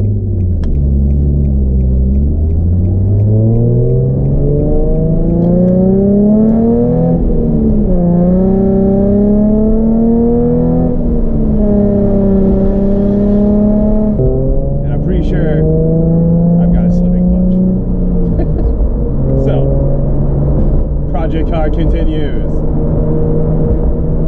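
A car engine revving loudly through repeated gear pulls while driving, pitch climbing and dropping in rising sweeps over a heavy constant rumble, close and dominant, with faint speech beneath; the car's clutch later gave out.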